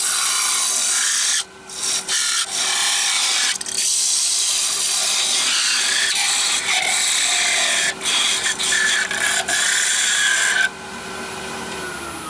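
Tool scraping steadily against spinning yew wood as a small hollow form is parted off on a wood lathe, a continuous bright rasping hiss broken by brief dips where the cut pauses.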